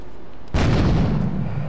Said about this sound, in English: Just discriminately blasting with grenades and all that kind of stuff